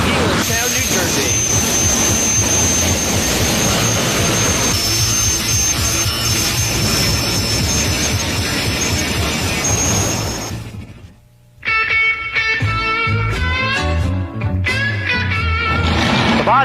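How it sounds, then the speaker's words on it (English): Jet dragsters at the Pro Jet Car Championships at Raceway Park in Englishtown, New Jersey roar in a loud, sustained whine, then cut off abruptly. A brief pause follows, and a voice speaks over music. "Jet 20 cars, jet dragsters, all coming your way next from the Pro Jet Car Championships at Raceway Park, Eliztown, New Jersey"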